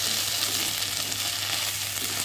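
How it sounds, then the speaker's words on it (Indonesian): Tauco being stirred into green beans and tempeh frying in a wok, a steady loud hiss of sizzling oil with faint scraping of the spatula throughout, no voices. "Terus kita masukkan tauconya, kita aduk."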